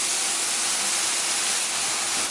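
Steady, loud hissing of water steaming and sizzling in a hot pan of vegan mei fun stir fry with carrots, an unbroken spray-like noise with no voices.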